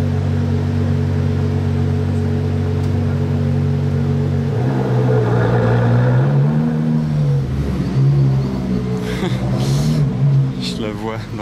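A Ferrari 812 Competizione Aperta's V12 rumbles at a steady idle, then swells and wavers through a few blips of revs, loud and close, with people talking nearby.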